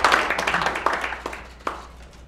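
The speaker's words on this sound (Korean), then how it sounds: "큰 박수로 맞이해 주시기 바랍니다." An audience at a Korean political forum claps to welcome a speaker, with a lively burst of handclaps that thins out into a few scattered, sharper claps toward the end.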